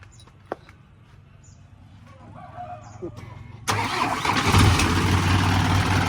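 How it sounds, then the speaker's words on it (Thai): An engine cranks and catches, then runs at a steady, even idle close by, after a quieter stretch with faint birds and a brief voice. "เสียงเครื่องนิ่มๆนะครับ"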